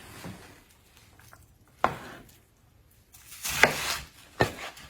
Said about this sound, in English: you can kind of stack them up like this and cut them into fours